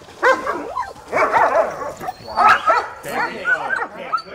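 A security dog from a Navy SEAL Museum K9 program barks in loud, repeated bursts at close range, with people talking between and over the barks.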